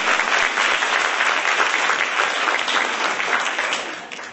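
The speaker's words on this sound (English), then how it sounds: "give yourself a big round of applause" An audience at a P&G women's summit in the Philippines breaks into sustained, loud applause, a dense wash of clapping that fills the space and begins to taper toward the end.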